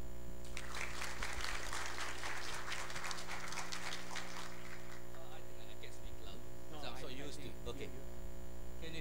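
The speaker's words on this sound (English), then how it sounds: "let's give a warm welcome applause for Professor's talk" Audience applause welcoming a professor's talk at a university department anniversary event, clapping through the first few seconds over a steady electrical hum, then fading as a voice begins speaking.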